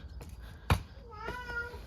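A cat lets out a drawn-out meow near the mic after a sharp knock, heard over quiet background noise with no talking.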